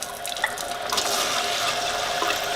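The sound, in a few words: filling a cup with Kangen water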